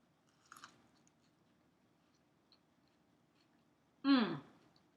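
Someone bites into a rainbow roll dipped in spicy peanut sauce, a soft wet crunch and chewing burst near the end after a brief rustle, close and otherwise quiet.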